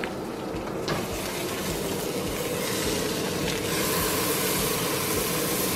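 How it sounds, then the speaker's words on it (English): Ground beef sizzling in a pan with garlic for taco chili, a steady, close frying hiss that continues evenly with no talking. "And now I'm adding my ground beef."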